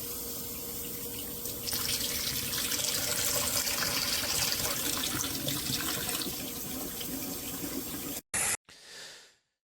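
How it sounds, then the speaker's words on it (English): Cloudy tap water running from a faucet in Los Angeles, a steady close rushing splash into a sink that cuts off abruptly near the end. "So this is the water coming out of the tap in LA right now."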